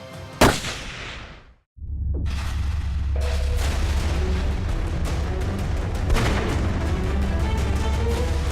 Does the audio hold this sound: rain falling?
no